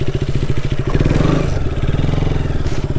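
A motorcycle engine runs loud and close on an off-road trail, chugging with a rough, pulsing rhythm and rising briefly as it revs and pulls away.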